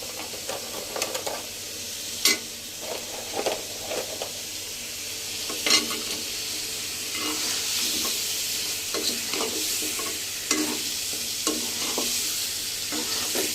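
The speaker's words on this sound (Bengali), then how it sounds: "টমেটোটা এখন আলুটার সাথে আর একটু হালকা কষিয়ে নিয়ে" Tomatoes and potatoes sautéing in a pan for a pabda fish dish, a steady close sizzle broken by irregular scrapes and clinks of stirring, with no talking.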